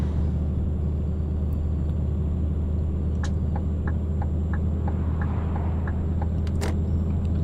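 Heavy truck engine in Euro Truck Simulator 2, hauling a 20-ton load in 7th gear with the retarder engaged, gives a steady low droning rumble with a faint hiss and a few light clicks, no talk.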